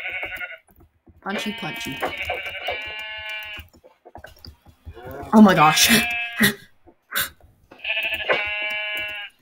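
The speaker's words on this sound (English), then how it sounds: "We have sheep." Repeated Minecraft sheep bleats sound in short bursts, with a person talking and exclaiming between and over them.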